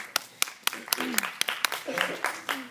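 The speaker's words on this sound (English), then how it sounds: "Let's go ahead and welcome Kayla, please, with a round of applause as this is her final speech." A debate class audience welcomes a student speaker with sharp, scattered claps at a fairly regular pace, heard under overlapping murmured voices.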